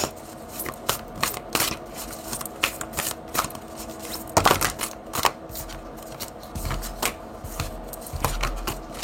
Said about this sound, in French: j'ai envie de prendre quelques cartes aussi avec ce tarot.